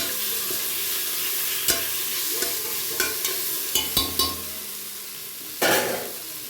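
Sliced onions fry in oil with salt, sizzling steadily while a spoon scrapes and knocks against the pan in a run of sharp clinks, ending with a louder stir.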